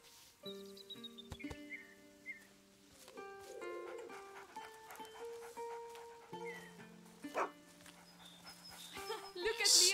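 Panting dog in the video game A Plague Tale: Innocence, quick breathy huffs over a game music score with in-game voices, fairly close and steady throughout.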